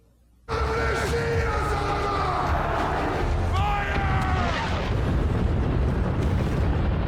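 Explosions from the film Dune Part 2 hit with a sudden loud onset after near silence, then become a sustained heavy rumble with rising and falling tonal roars layered over it.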